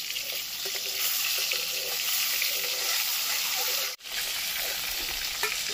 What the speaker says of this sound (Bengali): ডিমগুলো লাল লাল করে ভেজে নিয়েছি